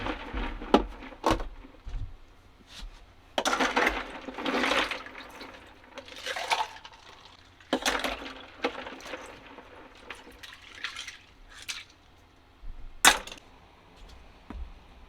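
Icy water scooped from a camping cooler in a van, with splashy pours and sharp plastic clicks of the scoop and lid coming in irregular bursts, close and moderately loud.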